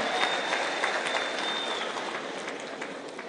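An audience at an event with Catholic bishops applauds senators, a sustained burst of clapping from a crowd indoors that fades slightly toward the end.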